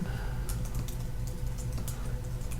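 Keys on a computer keyboard are tapped in a quick, light, uneven patter as a caption is typed, close and fairly quiet, with no voices.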